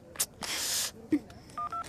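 A short burst of noise, then a handful of electronic dial tones beeping in quick succession, close and clear, with no talking.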